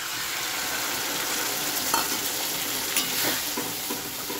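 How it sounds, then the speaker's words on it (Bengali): Potatoes frying in a pan as spices are stirred in, giving a steady loud sizzle with occasional scraping stirs and clinks, close up and with no voices over it. "এদিকে আলুটা আমার ভাজা হয়ে গেছে, মশলাটা এর মধ্যে দিয়ে দেব।"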